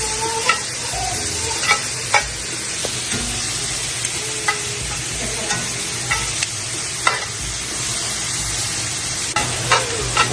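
Butter sizzles and crackles steadily on a hot outdoor grill over a strong fire, a constant bright hiss broken by scattered pops and clicks, with no talking.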